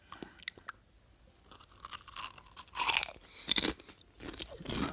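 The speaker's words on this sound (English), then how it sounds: "I apologize for the crunching. It's just me having my breakfast of Doritos." Doritos chips being crunched and chewed close to the microphone, a few quiet bites at first, then louder bursts of crisp crunching in the second half, with no talking.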